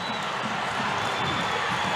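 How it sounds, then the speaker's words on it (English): An ice hockey arena crowd roars steadily as two Coventry Blaze players fight at centre ice, a dense, continuous wash of cheering with no breaks. "Crowd on their feet."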